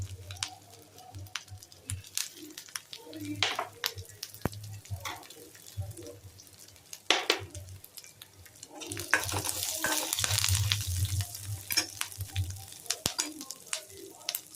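Ginger pieces, curry leaves and garlic fry in oil for vegetable manchurian: a soft, steady sizzle with scraping stirs, swelling into a louder, brighter hiss partway through, with faint background noises.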